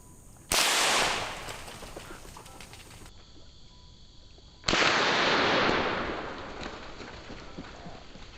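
Two loud, sharp rifle shots fired at wild boar during a hunt, each a sudden blast followed by a long decaying echo, spaced about four seconds apart.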